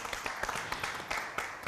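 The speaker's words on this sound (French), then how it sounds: "Des applaudissements, s'il vous plaît." Applause for a finalist on a French-language entrepreneurship television program, a short burst of scattered clapping with distinct individual claps, moderately quiet.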